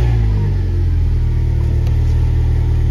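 A 58,000-mile Renaultsport Clio 220 Trophy with a valved exhaust runs loud and close, its engine holding a deep, steady rumble from start to finish with no voices.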